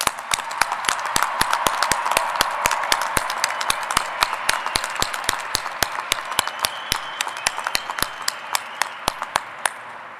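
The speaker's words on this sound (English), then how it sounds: "will you please join me in giving these graduates one more well-deserved round of applause?" A crowd applauds steadily for graduates at the 2012 Sunrise Mountain High School graduation ceremony, with dense, sustained clapping and sharp individual claps standing out throughout, with no talking.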